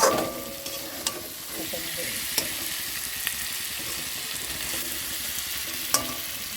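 Chitol fish masala sizzles steadily in hot oil while being stirred, with a continuous frying hiss and occasional sharp spoon taps against the pan.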